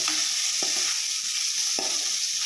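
Masala for Malnad-style chicken sambar fries in coconut oil with a steady bright sizzle, broken by two soft knocks of a stirring spoon against the pan.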